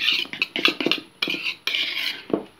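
A dessert mixture being mixed in a bowl, utensil scraping and clinking against the dish in quick, irregular bursts with short pauses, close and fairly loud.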